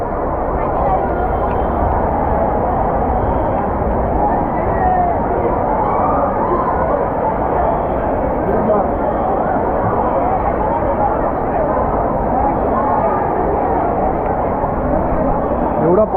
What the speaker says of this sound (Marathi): पाऊस आहे पण गर्दी जरा पण कमी होत नाही आहे